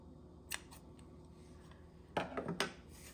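Scissors trim a tied accordion craft label with a few quick, close snips: one short cut early, then a cluster of crisp snips near the end, in an otherwise quiet room.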